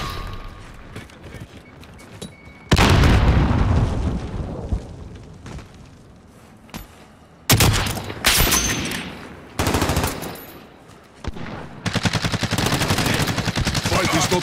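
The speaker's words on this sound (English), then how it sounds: "I am under fire!" Video game firefight with rapid machine-gun bursts and heavy gunfire in several loud, sustained volleys, separated by quieter stretches with brief voices.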